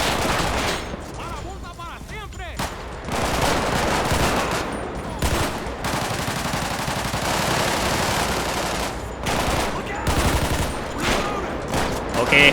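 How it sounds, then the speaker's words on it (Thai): Rapid bursts of gunfire in GTA V crackle throughout, dense and sustained with a few sharper shots, sounding like a busy firefight during a police raid on drug dealers, with faint voices underneath. "ยังมีเสียงปืน"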